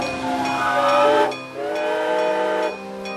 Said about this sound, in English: The whistle blows as the loud train steams toward Dresden, Germany.